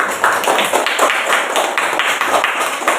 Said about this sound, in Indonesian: Kita kasih aplaus dulu.